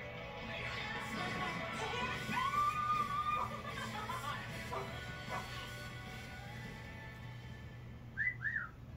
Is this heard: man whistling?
yes